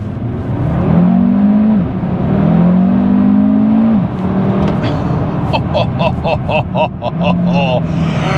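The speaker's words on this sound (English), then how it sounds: "that engine sound is just delicious" A Cupra Formentor VZ5 engine revs in long rising surges, then drops to a rumble. Rapid higher bursts and what sounds like a voice come near the end.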